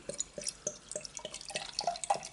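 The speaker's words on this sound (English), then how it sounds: "So let's get it in the glass and see what it's all about." Bulmers No 24 Wild Blueberry & Lime cider, 4%, pours into a glass with a rapid, uneven series of splashy glugs and fizzing drips, quiet and close.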